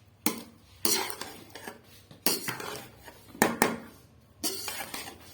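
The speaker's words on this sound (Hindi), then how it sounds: "इनको करते हैं मिक्स, चावलों को" A spoon scrapes and clinks against a metal pot while sweet zarda rice is mixed with dry fruits, bursts of stirring and scraping in uneven strokes, close and clear with no talk.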